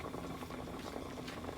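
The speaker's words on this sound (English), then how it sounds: "And once your rice comes up to a simmer," Rice with lemon juice and sea salt simmering in a pot gives a steady, close bubbling and gentle liquid churning that holds at an even level throughout, with no voices.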